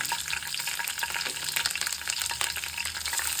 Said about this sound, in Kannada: ಕರಿಬೇವು ಹಾಕ್ತಾಯಿದ್ದೀನಿ.